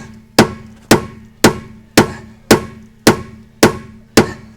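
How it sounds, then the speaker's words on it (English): Eight evenly spaced loud hammer blows ring out on the tyre bead of a Nissan 4WD on a high-country track, each a sharp metallic strike with a short ringing decay. "Every Nissan needs a hammer."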